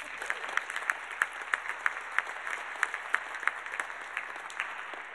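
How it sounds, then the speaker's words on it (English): A conference audience at a plenary session claps steadily, many hands together, with individual sharp claps standing out in a fairly even rhythm throughout. "give us a round of applause"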